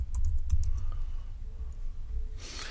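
Someone types on a computer keyboard with a quick burst of clicky keystrokes at first, then sparser taps over a low background hum, ending in a brief hiss.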